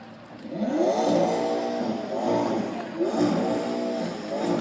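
A turbocharged McLaren MP4-12C supercar at an outdoor supercar show revs repeatedly, three rising engine blips with a rough, moderately loud exhaust note swelling and falling.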